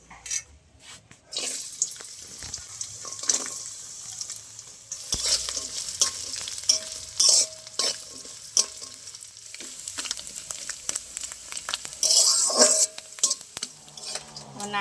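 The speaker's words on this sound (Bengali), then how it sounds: "কোচানো নারকেলগুলো তেলে দিয়ে এবার ভেজে নেব।" Grated coconut frying in white oil in a wok, a steady close sizzle broken by repeated scraping and clinking of a spatula stirring against the metal.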